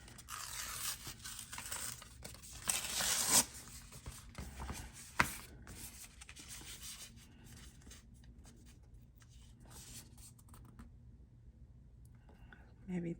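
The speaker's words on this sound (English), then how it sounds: "So we're going to tear a corner." A corner of paper is torn by hand for a junk journal page, with soft rustling handling and a brief, sharper ripping burst near the middle, all fairly quiet against a faint background murmur.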